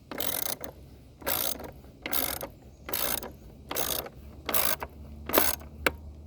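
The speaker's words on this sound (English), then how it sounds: "That click, that's the plastic clicking in." Plastic part on a Jeep Wrangler auxiliary battery setup clicking into place while being tightened, heard as a series of seven or eight sharp, evenly spaced ratcheting clicks up close with short quiet gaps between them.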